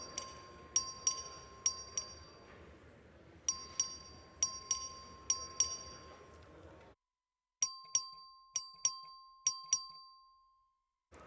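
A voting bell in the Texas House chamber rings in repeated bursts of chiming strikes with a steady electronic tone beneath, pausing briefly between rounds, faint and somewhat distant.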